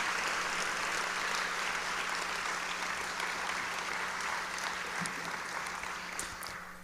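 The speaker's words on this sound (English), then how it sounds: "So let's have a round of applause for all the accomplishment by all of our divisions." A crowd applauds at a university opening day address, sustained even clapping from a large audience that holds steady and then begins to taper near the end.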